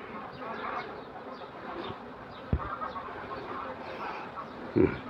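Dense honeybee hum from a crowded hive packed across new frames, during a hive split; a steady low drone throughout, with a few brief knocks and thumps of handled frames near the middle and end.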